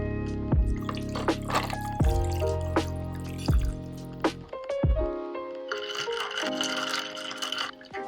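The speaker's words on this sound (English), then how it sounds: "All you have to do is pour it over ice and give it a good mix." Iced tea sweetened with honey poured over a glass full of ice and stirred, with clinking ice, dripping and trickling liquid, and sharp knocks against the glass up close, ending in a softer swirling rush.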